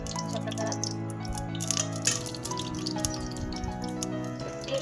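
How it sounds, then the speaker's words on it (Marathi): Oil trickles and drips into a clay pot on a gas stove while chicken biryani is being made. The pour is close and continuous, with small splashy drips and no speech. "तर आपण आता यामध्ये तेल घालून घेऊया."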